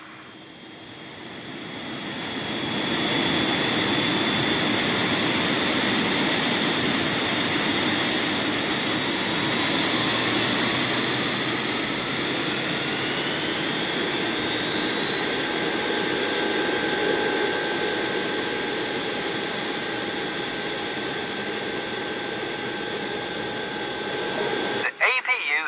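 An aircraft jet engine spools up in an airport ground-handling game, a rising whine with climbing tones that settles into a loud steady roar for over twenty seconds before cutting off, with a voice talking over it.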